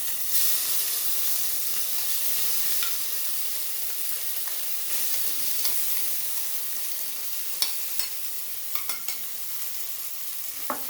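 Soybean chunks sautéing in a pan give a loud, hissing, steam-laden sizzle up close, with a few sharp stirring clicks near the end.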